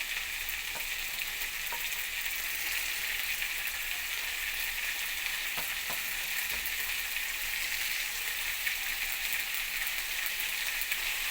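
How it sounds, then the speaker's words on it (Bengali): Long beans frying with potato in a pan for an egg bhujia, a steady, even sizzle throughout with a few soft stirring clicks, close up and without any talk. "সমস্ত বরবটিটা দিয়ে দিয়েছি এবার আলুর সঙ্গে এটাকে ভেজে নেব"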